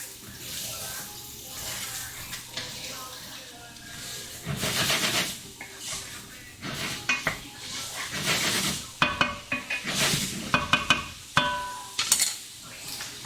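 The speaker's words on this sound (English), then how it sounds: "Give this guy a quick stir." Ingredients for a beef tenderloin dish are stirred in a hot pan, with a steady sizzle and frying hiss under scraping and clattering from the spoon, louder bursts toward the end.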